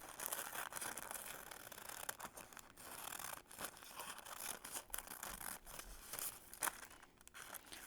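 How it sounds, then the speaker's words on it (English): Repeated crisp snips and rustling of paper being cut, close by and fairly quiet, with uneven pauses between cuts and no talking. "turn it while you open and shut your scissors"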